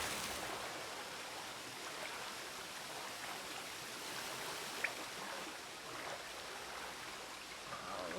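Steady rushing water fills a well in The Witcher 3 video game, a continuous close wash of flowing noise with no talk.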